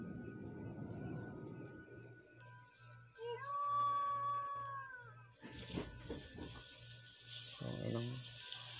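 A drawn-out, wavering howl rises and holds in a played recording, sounding thin and distant, with a rhythmic ticking underneath and other muffled noises afterward.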